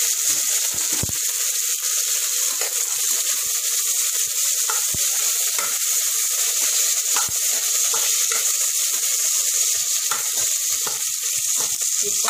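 Mint leaves fry in oil in a pan while making chicken biryani, a constant bright sizzling hiss with scattered small pops and crackles, steady and close, with no voices.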